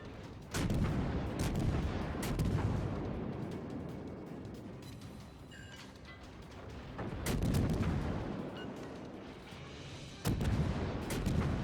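Heavy naval gunfire from World of Warships, with 155mm cruiser guns on the Mogami, comes as three loud booming salvos with rumbling decay between them, close and without talk.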